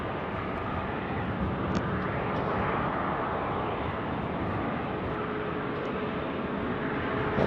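Air India airliner on approach to land at Sydney Airport, a steady broad engine roar held at moderate distance throughout with no voices.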